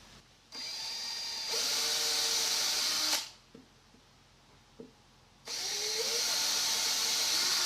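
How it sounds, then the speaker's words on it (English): A power drill whines in two sustained bursts drilling pilot holes in a wooden bat, close by, separated by a quiet pause with faint clicks. "I'm going to drill pilot holes."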